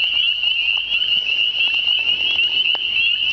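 Dense chorus of spring peeper frogs calling steadily from many spots around, a continuous shrill high peeping that never lets up, with no voices.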